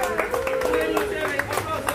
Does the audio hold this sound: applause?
yes